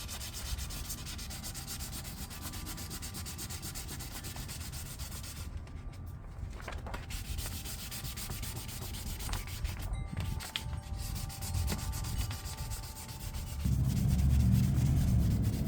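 Car paint is hand-sanded to smooth the surface and feather the edges. A steady, close rubbing scratch continues throughout with brief pauses, and it grows louder and coarser near the end.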